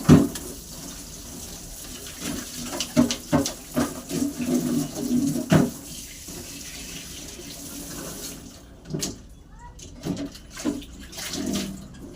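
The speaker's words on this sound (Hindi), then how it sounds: "2 टोकरियां खाली रखी हुई थी तो मैंने कहा इन्हें धो के साफ कर लेती हूँ" Tap water runs steadily while two plastic baskets are washed in a sink, with splashing and knocking bursts over the flow and pigeons cooing in the background.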